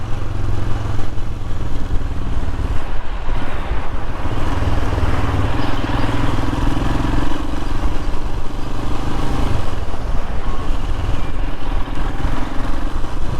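Royal Enfield Himalayan motorcycle ridden on a road in Cornwall, a steady loud engine drone with wind rush and slight changes in throttle throughout, no voices.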